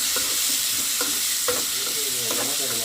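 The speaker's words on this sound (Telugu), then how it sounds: "సన్నగా కట్ చేసిన టమాటా ముక్కలు వేసుకుని వాటిని బాగా కలిపిస్తాను" Thinly sliced tomatoes stirred in a hot pan, a constant sizzle of frying with repeated scraping strokes of the spoon about every half second.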